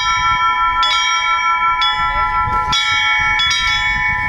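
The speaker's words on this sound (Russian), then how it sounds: "колокольный звон привлекал внимание случайных прохожих и жителей близлежащих домов" Church bells ring at an Easter celebration in Sarov, Russia, with loud, close, repeated strikes whose long ringing tones overlap continuously.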